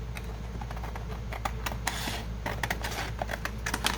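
Scissors cutting faux suede material, a series of close, soft snipping clicks that quicken toward the end, with no talking.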